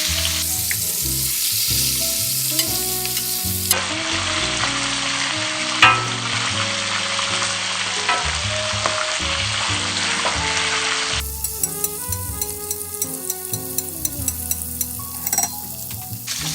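Ribeye steaks searing in a hot pan give off a loud, steady sizzle and crackle throughout, with a few sharper pops and spatters and brief handling knocks as the meat is turned, no talk.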